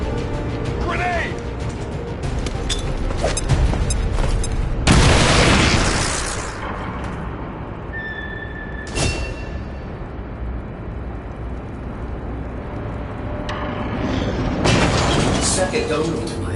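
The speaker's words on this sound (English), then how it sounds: "Grenade!" Grenade blasts in the video game X-COM, with loud booming bursts at intervals over a dense battle soundscape, and a voice shouting amid the noise.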